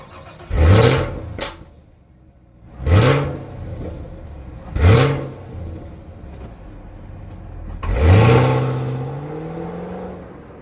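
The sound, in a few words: Chevrolet Camaro SS V8 engine accelerating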